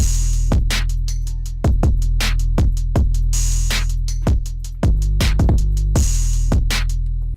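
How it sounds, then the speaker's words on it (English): Heavy, loud phonk drum loop made in FL Studio, with booming bass hits and crisp cowbell-like clicks repeating in a steady, driving pattern, no voices. "The drums together sound something like this."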